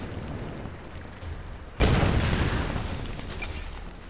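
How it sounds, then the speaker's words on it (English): A big explosion goes off in the video game Tomb Raider, a sudden loud broadband blast that bursts in partway through and leaves a long rumbling roar trailing off behind it, with no one talking. "That was a big explosion."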